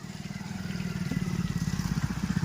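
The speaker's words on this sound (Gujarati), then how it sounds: "જો અહીંયા બાઇક વાળા લેવા આવ્યા" A motorcycle approaching with a rhythmic engine putter that grows steadily louder as it nears, mid-distance to close.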